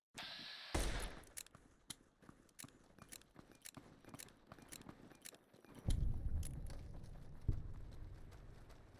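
Gunshots in Fallout: New Vegas, a series of sharp, irregular cracks spread across the stretch over low rumbling game ambience, with a heavier burst near the end.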